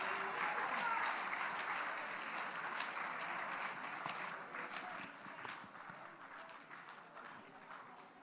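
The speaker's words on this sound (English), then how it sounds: "I did not command you to clap." Audience applause at a city council State of the Municipal Address, a dense sustained clapping that is loudest at the start and slowly thins and fades over about eight seconds.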